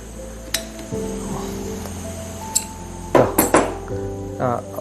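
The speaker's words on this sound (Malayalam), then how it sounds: "അഡ്ജസ്റ്റബിൾ പിടിച്ച് ഇതാ ആ സ്പിൻഡിൽ ഇളകി" An adjustable wrench works a tap spindle loose during a faucet leak repair, giving a few sharp metallic clanks and clinks over a steady background hum, close by.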